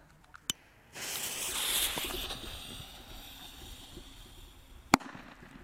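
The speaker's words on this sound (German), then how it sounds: "Und machen wir noch einen Nico D-Böller." A Nico D-Böller firecracker is lit and goes off outdoors: a fizzing fuse hiss swells for about a second, followed by a sharp, loud single bang near the end, with a small pop at the start.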